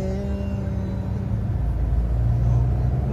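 Heavy road traffic rumbles low and continuous, heard from inside a vehicle travelling from Gorakhpur toward Sonauli, with a steady engine drone and deep vibration throughout.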